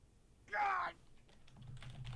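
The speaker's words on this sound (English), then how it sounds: "Now I'm typing like crazy." Computer keyboard keys rattle in a quick, dense burst of typing, followed by a few scattered lighter taps against a low, murmuring background.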